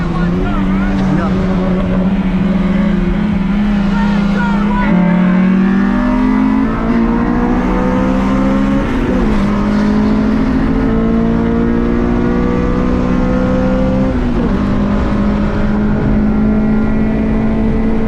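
A stock Honda DC2 Integra Type R VTEC engine with six-speed gearbox revs hard and climbs in pitch through several gear changes, each shift dropping the tone before it rises again. Continuous and close.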